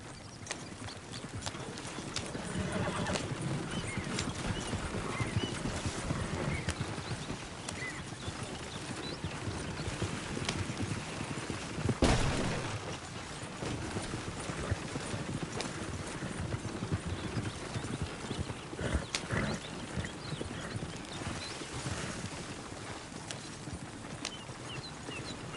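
Horse in the video game Red Dead Redemption galloping through trees, steady rhythmic hoofbeats running throughout with occasional faint neighs and snorts, one louder thump midway.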